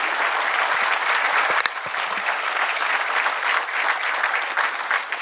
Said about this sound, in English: Once again, a huge round of applause to General Naravne sir for kindly agreeing to come